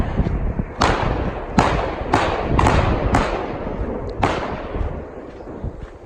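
Gunshots from a shooting range beside a highway in a canyon ring out as a series of about six sharp reports at irregular intervals, some distance off, each trailing a short echo over a low background rumble.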